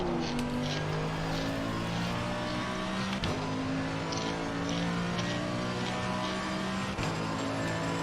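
GT4 race cars in Assetto Corsa Competizione drive at Monza as a continuous, dense engine drone with sustained droning tones and occasional brief shifts, loud and steady throughout.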